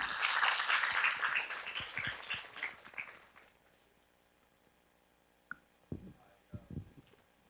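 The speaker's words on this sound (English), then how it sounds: "Please welcome, with our applause" An audience at an internet leaders' capacity-building event gives a short round of applause for the chair. The clapping fades out after a few seconds, leaving near silence broken by a few soft knocks and clicks.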